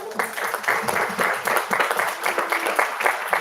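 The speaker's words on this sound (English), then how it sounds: "Let's give them all a clap." An audience at a school district board meeting claps for graduating children, a brief burst of scattered, moderately loud applause in an indoor room.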